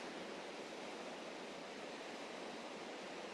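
Fast, crystal-clear mountain stream rushing downhill over rocks, a steady broadband wash of water noise, continuous and fairly distant with no voices.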